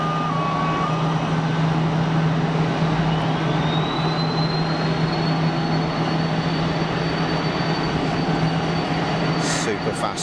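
A Cessna Citation business jet spools up at Geneva Airport, a loud steady engine roar with a rising whine that climbs and then holds high, heard from nearby across the apron.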